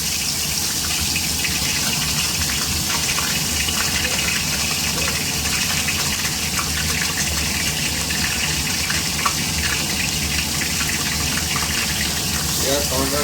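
Water gushes steadily into a cooking pan of frying onion and tomato for a chicken masala, a continuous broadband rush that holds at an even level throughout without pause.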